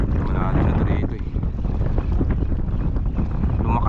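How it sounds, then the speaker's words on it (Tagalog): Strong wind roars steadily across the microphone on a small fishing boat at sea, with water slapping beneath it. The noise stays loud and continuous throughout. "Lumakas lang yung hangin, grabe."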